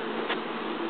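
A steady, faint buzz of a bee droning close by at an open beehive, continuous and alone with no voices.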